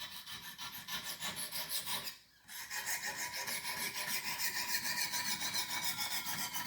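A knife blade is scrubbed back and forth on a sharpening stone to raise a burr, giving rapid rhythmic rasping strokes that pause briefly after two seconds and then resume, close and steady.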